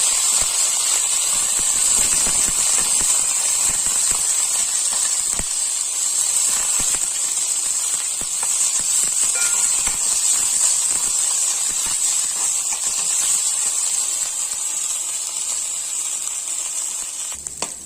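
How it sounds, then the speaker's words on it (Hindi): Neem flowers frying in a spoonful of mustard oil over a coal sigri, a steady close sizzle and hiss running unbroken throughout with no talk. "अब हमारा फूल को हम भून लेंगे।"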